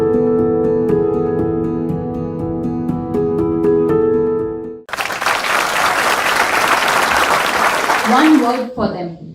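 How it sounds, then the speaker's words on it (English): An audience applauds Madhubani artists at the Sanskriti International 2024 finale, a celebration of Indian culture. Sustained clapping follows a stretch of harmonic music and continues for several seconds before ending abruptly. "Let's give all our Madhubani artists a big round of applause and appreciate them"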